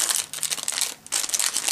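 Stiff fabric forget-me-not flowers crinkling and rustling while handled close to the mic, a dense crackly texture with a short pause in the middle before the crinkling resumes.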